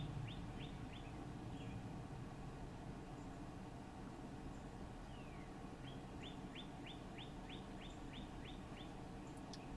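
A bird sings outside a window, quick repeated chirping phrases at moderate distance over a steady indoor background hiss.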